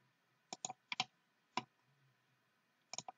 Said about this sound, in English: I'm going to click E on the keyboard and extrude